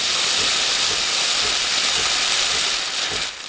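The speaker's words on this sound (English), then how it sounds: "So there we go, we got our steam wand going." Steam wand on an Ascaso Steel Duo PID espresso machine releasing a loud, steady hiss that holds for about three seconds, then tapers off and cuts out near the end.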